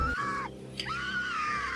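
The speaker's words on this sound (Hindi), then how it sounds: "लोग चीख रहे हैं" Horror-film scream effect in a haunted forest scene, a sustained, wavering high shriek that dips and rises again, loud and continuous over a dense dark backdrop.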